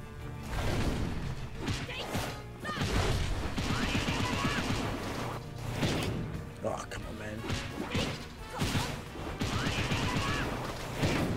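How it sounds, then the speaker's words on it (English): Bombs dropping and bursting in One Piece World Seeker, a dense run of crashing, thudding blasts and whooshes that keeps going, heard under a player's steady talk. "They're dropping bombs."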